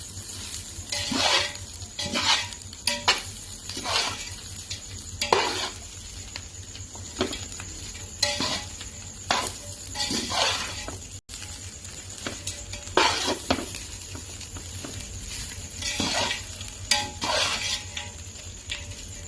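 Food stirred in a pan with pepper powder: repeated scraping strokes of a spoon against the pan in an uneven rhythm over a low sizzle, close and moderately loud, with no talking.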